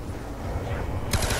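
A new gun in Call of Duty Black Ops 2 Zombies on Nuketown fires in a dense, continuous rapid burst that swells louder near the end.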